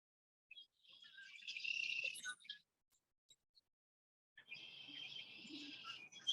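Small birds chirp and twitter at backyard feeders in spring, coming in two faint, busy bursts separated by a short quiet gap, with no talking.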